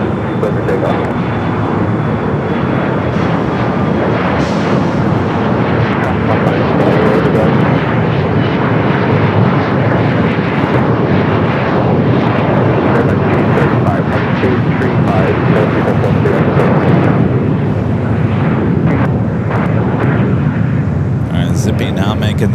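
A passenger jet roars down runway 25 left at LAX on its takeoff run, a loud, steady, broadband engine rumble that holds for the whole stretch without fading.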